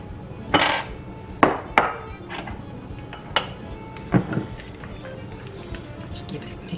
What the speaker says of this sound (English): I'm just gonna sprinkle these in and then give them a really good mix.